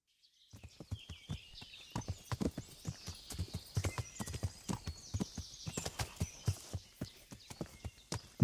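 Horse hooves clip-clop steadily in a video game, a quick, even run of sharp, close hoofbeats with an occasional whinny, carrying on for several seconds without speech.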